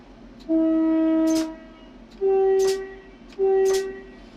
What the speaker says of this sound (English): Don't forget the horn.